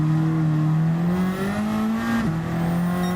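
A race car engine in Gran Turismo 7 holds a steady, loud drone, then its pitch drops abruptly twice as the driver shifts gears, with a faint tire squeal underneath.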